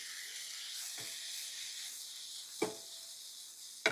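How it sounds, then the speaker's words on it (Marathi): Chopped tomatoes fry in a pan for a veg kolhapuri gravy, giving a steady soft hiss with a few sharp clicks and pops near the end. "टमाटे हलके सॉफ्ट होत तर आपल्याला फ्राय करून घ्यायचे आहे।"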